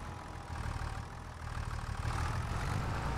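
A modded tractor fitted with a front loader idles in Farming Simulator, giving a steady, moderately loud low engine hum that swells slightly partway through, with no talk.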